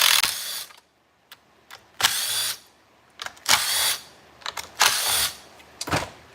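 A chainsaw's recoil assembly being removed with a power driver, giving several short whirring bursts separated by brief pauses and small clicks, close up with no talk.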